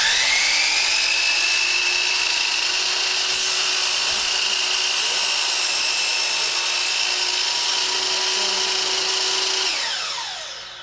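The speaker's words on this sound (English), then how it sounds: "When you're starting the saw, it'll want to give you a little kick because it's a pretty powerful saw." A powerful miter saw runs loud and close with a steady high-pitched whine for about ten seconds, its pitch shifting slightly under load before winding down at the end.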